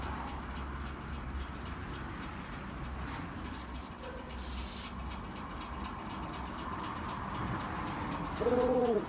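A dove cooing outdoors, soft low coos repeated near the end over a constant background rumble of distant engine or traffic noise, with no talking.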